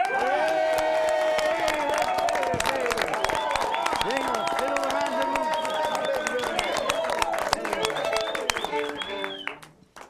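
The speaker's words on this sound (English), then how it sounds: "I want to hear a really loud round of applause for Damien Boucher" Audience applause and cheering for a performer on a late-night show, with music and voices mixed through the clapping before it fades out at the end.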